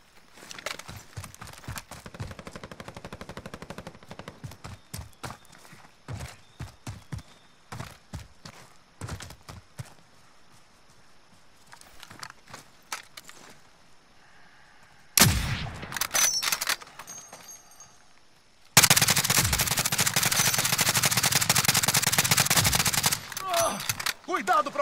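Gunfire in the game Call of Duty: Warzone, with scattered bursts of shots early on, then loud sustained automatic fire in two long stretches near the end, along with some voices.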